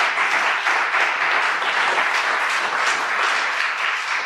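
A church congregation claps steadily, a dense, even wash of applause offered to the Lord during a home worship service, lasting the whole span at moderate loudness without talk.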